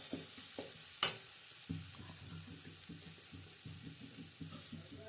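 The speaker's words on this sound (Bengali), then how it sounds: "সুন্দর করে এখন আবার নাড়াচাড়া দিয়ে নেব যাতে পুড়ে না যায়।" Onions frying in a pan and being stirred, a soft continuous sizzle with repeated scraping strokes of the spatula in a steady rhythm, plus one sharp clink near the start.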